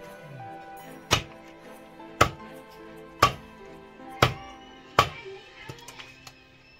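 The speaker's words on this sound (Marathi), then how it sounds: "मी पण तरी आपण साईडची बघा कट करून घ्यायचे आहेत" A knife chops sharply through the sides of a shingada catfish while it is cleaned and cut, five distinct thunks at roughly one-second intervals, close and crisp, with no talking over them.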